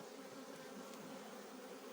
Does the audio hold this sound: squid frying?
no